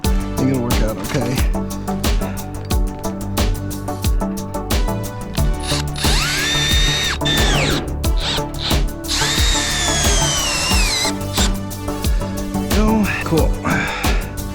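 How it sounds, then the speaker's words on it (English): A power drill drives screws through a metal siding panel on a barndominium shop house in snowy weather, with several whirring bursts and ratcheting stops that come up close and loud while a person talks in between. "just gonna hang this up here like that and screw it in"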